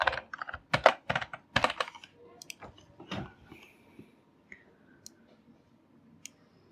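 Someone types a password on a computer keyboard in quick clustered bursts of close, crisp key clicks, then a few sparse isolated taps trailing off in a quiet room.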